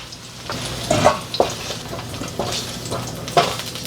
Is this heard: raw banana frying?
yes